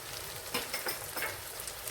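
Ground cumin, red chilli and Kashmiri chilli powders sizzle in hot oil in a pan for masala egg curry, a dense close crackle with light stirring scrapes running throughout.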